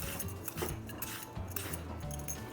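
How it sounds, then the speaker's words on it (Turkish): Carrots are peeled by hand in a home kitchen, a run of soft scraping and rasping strokes with faint clinks of the peeler, close and quiet, no talking. "Arkadaşlar havuçlarımızı bu şekilde soyuyoruz."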